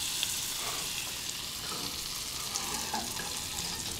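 Toast fries in a pan, giving a soft, steady sizzle with faint crackles that runs quietly and evenly throughout, with no talking.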